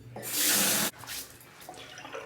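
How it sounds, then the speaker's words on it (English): Hot water gushes loudly from a bathroom tap for about a second, then cuts off, followed by softer splashing and dripping as a Parker 90R travel razor shave gets under way. "What I'll do is soak it under the hot water"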